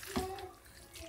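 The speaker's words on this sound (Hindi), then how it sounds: "अब हम इसमें पानी डालेंगे और इसको ना अच्छे से मिक्स कर देंगे।" Water is poured into a bowl of flour mixed with carom seeds in a home kitchen, a short, faint splash and trickle close by.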